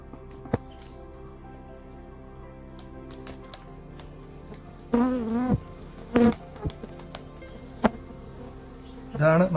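Stingless bees buzz faintly around a hive box as it is pried open, with soft scattered whines and a few sharper close buzzes near the end over a quiet outdoor background.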